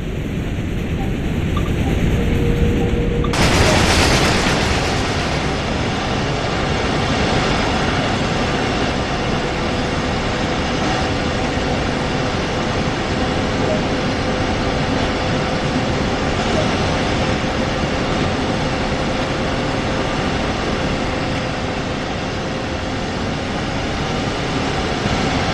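A double-decker passenger train in the Train Sim World game runs in a steady loud rumble with continuous broadband rail noise and a faint sustained tone, heard from outside the train and unbroken for over twenty seconds after a sudden start.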